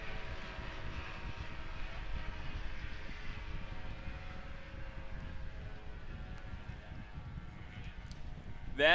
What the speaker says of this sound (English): That airplane, powered by a Rotax 670